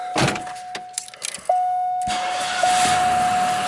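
A 1993 Buick with a 3.3 liter V6 cranks briefly, catches and settles into a steady, even idle, heard close up with no talking.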